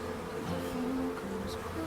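Bees buzz steadily among wildflowers in the Montenegro mountains, a continuous close drone of several insects humming together with no voices.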